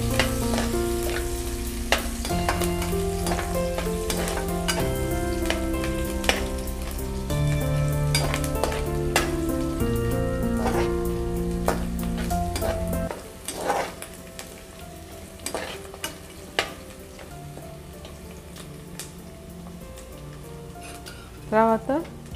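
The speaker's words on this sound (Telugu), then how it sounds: "ఉల్లిపాయలు ఒక నిమిషం ఫ్రై చేసుకోవాలండి" Onions sizzle and crackle in a pan while being stirred for moong dal khichdi, a steady loud frying hiss with scraping for most of the stretch, thinning to sparse clicks and taps near the end.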